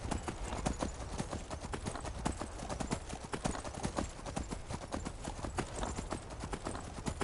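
Horse hooves clopping in Skyrim in a quick, even rhythm throughout, close and consistent, over a soft background wash.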